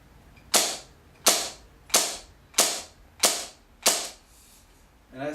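An HFC HG-203 gas airsoft gun is dry fired on single fire: six sharp, evenly spaced mechanical snaps about every 0.7 seconds, each with a short decaying rattle, close and clear, with another click starting at the end.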